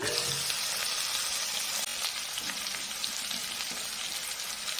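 Goat meat with ginger garlic paste fries in a pan, making a constant, moderately loud sizzle with occasional stirring scrapes close by.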